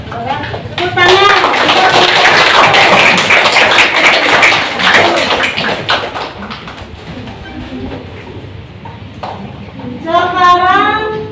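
Classroom clapping from students after a correct answer in a lesson on natural resources, a loud burst of group applause that fades, with voices talking over it and birdlike chirps near the end.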